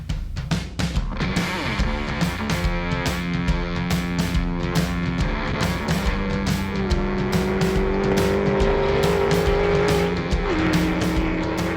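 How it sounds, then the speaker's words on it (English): Drag racing cars on an airstrip in Arizona roar loudly and continuously, engine tones climbing and shifting as they accelerate hard, with tire squeal and sharp crackling bursts over the steady din. "In this state, drag racing isn't just for professionals."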